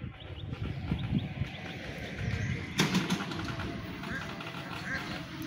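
Birds calling outdoors beside a main road, a few short chirps and coos scattered over a constant traffic-like rumble, with a brief burst of broadband noise midway.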